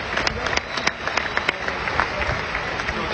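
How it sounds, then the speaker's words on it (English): Audience applause at a speaking event in Tampa, Florida, a moderate, steady patter of many hands clapping throughout, heard at some distance with a few sharper claps standing out. "If you can give him a nice round of applause for putting this all together as well."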